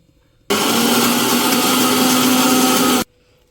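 A mixer grinder coarsely grinds spinach roti chutney in one loud, steady whir that starts abruptly, runs about two and a half seconds and cuts off sharply, with no speech.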